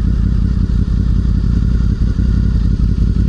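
A motorcycle with a newly fitted sport exhaust idles after stopping, giving a loud, close, steady low rumble with a lumpy pulsing beat and no revving.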